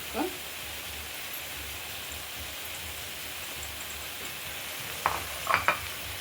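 Curry leaves dropped into hot coconut oil over avial in a pan give a steady soft sizzle, with a few sharper spatters and a scrape of stirring near the end; no one speaks.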